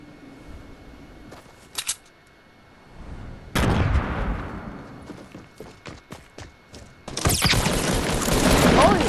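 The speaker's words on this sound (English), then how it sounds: "Oh, who's shooting at me?" Video game gunfire aimed at the player, starting with a couple of isolated shots, then loud rapid bursts and a dense volley of fire up close, with rattling and clattering impacts throughout.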